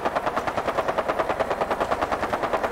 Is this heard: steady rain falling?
no